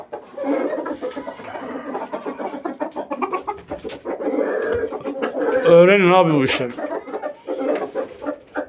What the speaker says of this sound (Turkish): Tavuklarım geldiler.